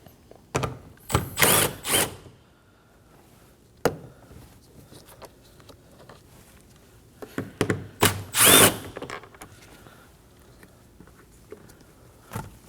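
A power tool drills out 10mm bolts from a Nissan Armada front interior door handle in short, loud bursts, a few quick pulses then longer whirring runs separated by quiet pauses and small clicks.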